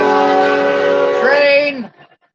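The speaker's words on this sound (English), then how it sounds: "Train!" A loud, near train horn blares as the train passes, holding a long chord and then bending downward before cutting off into quiet.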